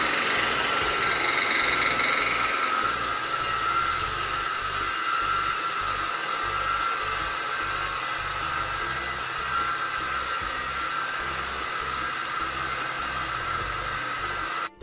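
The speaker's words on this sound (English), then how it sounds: "We'll use a wire brush." A bench-mounted wire brush wheel scours die clamp marks off a metal brake tube after hydraulic flaring, giving a steady, loud whirring grind with a broad hiss that runs unbroken throughout, with no talking.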